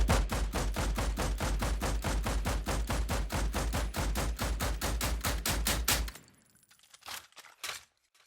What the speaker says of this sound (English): I exported the mechanical layer of each gunshot separately